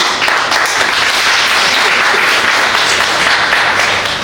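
A church congregation breaks into loud, sustained applause, dense clapping filling the room at a steady level throughout.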